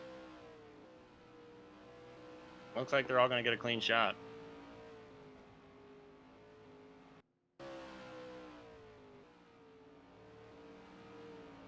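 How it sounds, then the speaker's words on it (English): Race cars run on track during qualifying for a 2019 FARC Lowe Dollar Series event at San Antonio, heard as a steady engine drone under a commentator's voice, with one sharp burst of revving partway through. "All right, so all the bottom 5 cars are now on track."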